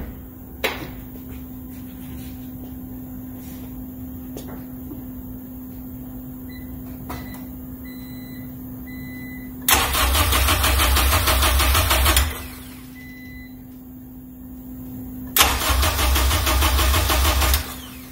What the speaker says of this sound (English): and now the car cranks